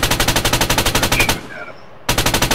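A coaxial machine gun in the Arma 3 video game fires loud, rapid, evenly spaced bursts, stops for about half a second with a fading echo, then resumes firing.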